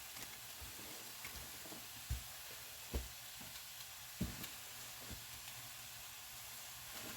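A vegetable medley sautéing in a pan gives a low, steady sizzle and hiss, with a few soft thumps and scrapes of stirring now and then, quiet and close with no voices.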